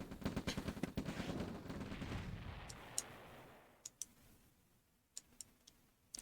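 Rocket troops firing on an oil derrick in the Red Alert strategy game: a dense burst of rapid gunfire-like crackling for about three seconds, fading into a few sharp, isolated shots against near silence.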